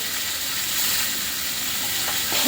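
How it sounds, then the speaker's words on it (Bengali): Food fries in a pan with a loud, continuous sizzle and hiss while it is stirred, with soft scraping as it is turned over. "এবার এটা নাড়াচাড়া করে নিই দেখো সুন্দর করে একটু নাড়াচাড়া করে নিয়ে"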